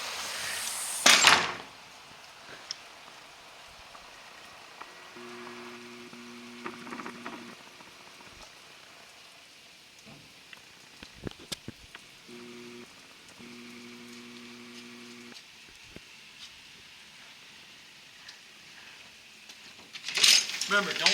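Rain falls softly outdoors in spring, a low steady patter broken by occasional knocks, brief tonal hums and louder rustling bursts near the start and end.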